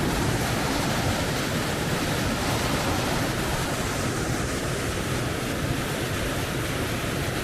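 Waterfall in Yelapa, Jalisco, Mexico, pouring into a strong whirlpool at its base: a steady, loud, broadband roar of falling water that holds constant throughout with no voices.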